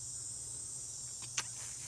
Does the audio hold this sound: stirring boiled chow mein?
no